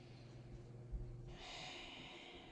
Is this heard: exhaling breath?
yes